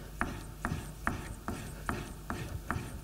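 A woodworking chisel bevel pulled along a strop with the edge trailing. It makes a steady, rhythmic rasping rub, with about seven evenly spaced strokes in three seconds, close up and fairly loud, with no speech.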